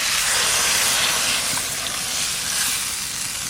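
Water hitting a hot pan of kohlrabi and potatoes, a loud broad steamy hiss that holds steady for a few seconds, close up, with no voices.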